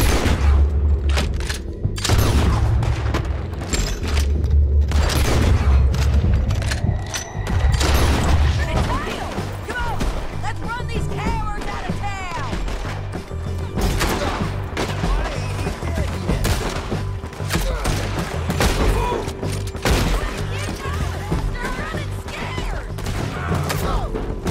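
A chaotic Red Dead Redemption 2 gunfight with repeated gunshots, booming volleys and impacts that continue throughout, layered under game music and spoken dialogue.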